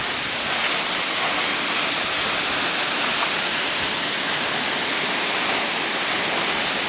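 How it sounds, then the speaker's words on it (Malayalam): Waterfall on the Annapurna trekking circuit in Nepal sends a steady, dense roar of falling and spraying water, loud and close, unbroken for the whole stretch with no voices. "ഈ വെള്ളച്ചാട്ടത്തിൻ്റെ വെള്ളമില്ലേ,"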